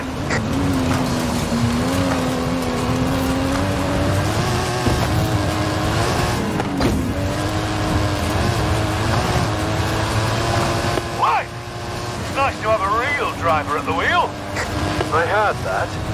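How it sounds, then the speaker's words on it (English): Custom-engined Mike Steel Special stunt car in Forza Horizon 5 climbing a hill, its engine droning and rising in pitch with revs, joined by sharper engine sweeps near the end while voices talk over it. "That stunt vehicle is a Mike Steel Special."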